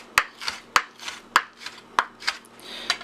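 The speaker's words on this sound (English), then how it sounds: "we're going to cut this in thin slices like this" A knife cuts chicken for scallopini into thin slices on a board, with sharp, evenly spaced chops about every half second, each followed by a soft slicing swish, close and clear with no talking.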